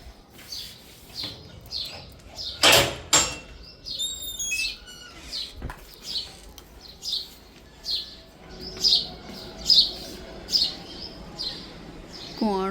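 A sparrow chirps near its nest with sharp, bright calls repeating about once a second, close and clear, broken by a sudden loud knock early on.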